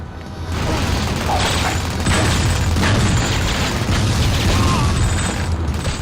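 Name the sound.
crates exploding in the video game 007 The World Is Not Enough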